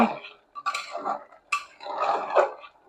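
Beef head meat with spices is stirred and sautéed in a pot, giving a few separate bursts of metal scraping and clinking with soft sizzle between them, close by.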